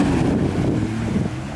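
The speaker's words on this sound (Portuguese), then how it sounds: "Dá um acelero forte aqui nesse jet ski" A jet ski accelerates hard out at sea, its engine droning low and strong beneath heavy wind buffeting and water noise, easing slightly toward the end.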